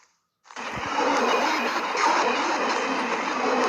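Steady rumbling and rattling of a small ride-on toy train rolling along, starting after a brief silence and continuing at an even level with faint clatter.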